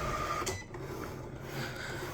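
A Cricut cutting machine cuts squares with a soft, steady mechanical whir and faint carriage movements, quiet and close, without speech.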